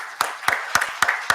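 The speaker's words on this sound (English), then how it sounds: "A round of applause for everyone included." Five crisp hand claps land at an even, brisk rhythm, close and fairly loud, like a short burst of applause at an end-of-talk thank-you, with no voices over them.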